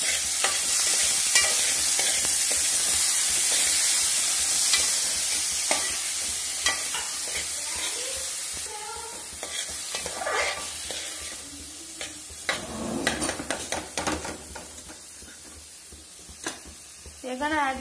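Tomato sizzles and fries in a pan while being stirred, with a steady bright hiss and scraping spoon strokes, and a person talking intermittently over it.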